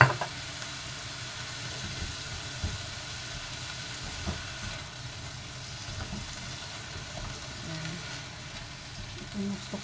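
Eggplant adobo fries in oil in a pan, giving a steady, even sizzle and hiss at moderate volume that goes on without a break.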